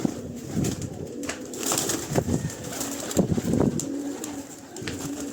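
Pigeons coo and flap their wings in bursts of fluttering, with soft outdoor background noise and no talking.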